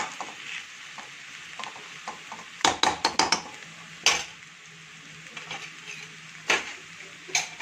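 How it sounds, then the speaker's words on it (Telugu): A lid clatters onto a cooking pot amid several sharp metallic knocks and clinks, set over a soft, steady sizzle that fills the gaps between the hits. "మూత పెట్టేస్తున్నాను."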